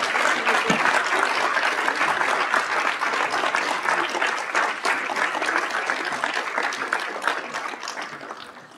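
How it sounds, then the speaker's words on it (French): Sustained applause from a conference audience at a quantum science event, dense and even clapping that holds for nearly nine seconds before tapering slightly at the end. "Je crois qu'on peut l'applaudir"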